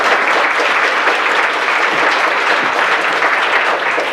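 Town hall audience applauding, dense sustained clapping from many hands, loud and close, continuing evenly without talk.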